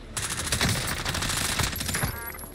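Sustained automatic gunfire in a Call of Duty video game, loud and close, rattling almost without pause for about two seconds before cutting off.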